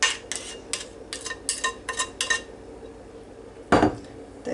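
A heavy glass bowl holding a quick egg pie clinks and knocks in a quick run of light taps, then lands with one louder thud after a short pause.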